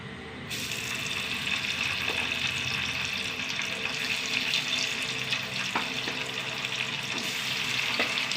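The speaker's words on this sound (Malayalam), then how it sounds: "നാല് മീൻ വറക്കാനുണ്ട് കേട്ടോ" Fish fries in a pan with a continuous close sizzle and fine spattering, with a few faint knocks under the steady frying.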